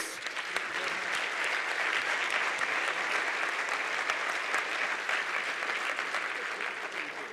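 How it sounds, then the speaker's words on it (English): Audience applause for guests at a conference talk, a steady, even wash of many hands clapping at a distance with no letup, fairly faint. "Give them a warm applause"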